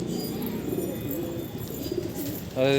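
Rajasthani kalsira pigeons coo softly in a loft, with low, rolling calls repeating close by. A brighter tonal sound cuts in at the very end.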